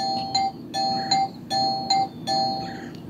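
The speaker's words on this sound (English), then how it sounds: "Is he mocking the doorbell?" A doorbell in the video game Do Not Disturb rings four times in a steady repeating pattern, each ring a bright two-note electronic chime over a low background hum, with no talking.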